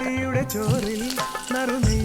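Small piece of ginger frying in hot coconut oil in a pan, a steady crackling sizzle close by with occasional stirring knocks, under a continuous tonal hum from background music.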